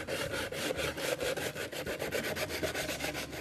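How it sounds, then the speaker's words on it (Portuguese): Sandpaper rubbed back and forth over wood while a slatted wooden planter is being made, a quick, even scratching rhythm of steady strokes heard up close with no voices over it. "Esse barulho de lixo é incômodo."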